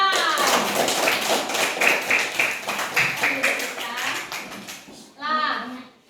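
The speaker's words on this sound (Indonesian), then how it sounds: "Tepuk tangan untuk Tristan." Children clap in a classroom, a run of brisk, rhythmic claps at close range that sounds like a chant-style clapping pattern, mixed with children's voices. The clapping then stops and a short burst of speech follows.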